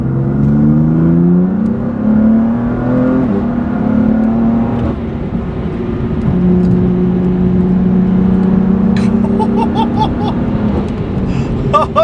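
A BMW M4 GTS engine fitted with carbon fiber Eventuri intakes revs up and down repeatedly, its pitch rising and falling in loud surges, with a brief voice heard toward the end.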